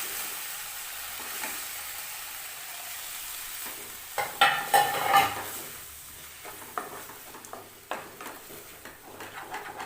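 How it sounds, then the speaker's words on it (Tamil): Eggs cracked into a pan of cooking drumstick flowers for poriyal sizzle quietly, then a spoon scrapes and stirs with a burst of clatter and soft sizzling pops; no voices. "இப்போ முட்டை உடச்சி ஊற்றிக்கலாம்"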